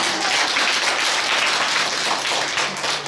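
Sustained applause from a crowd, dense steady clapping throughout with no pauses.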